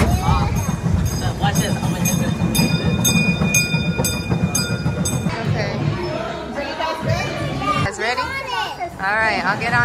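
A ride train rolling along its track through a tunnel, a steady loud rumble with clicking under excited children's voices and adult talk throughout.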